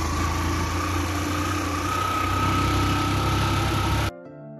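A small motorcycle engine drones steadily and loudly with a buzzing, vibrating tone, then cuts off abruptly at the end.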